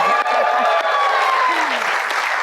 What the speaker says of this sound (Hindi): अगर आप इजाजत देती हैं तो भरपूर तालियां एक दफा फिर यार